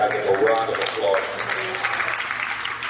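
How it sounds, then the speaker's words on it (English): Audience at a Rotary district conference in Diani applauds the district governor-elect, a broad sustained patter of clapping in a hall, with some voices and a low hum underneath. "let's give our district governor-elect Azim a round of applause"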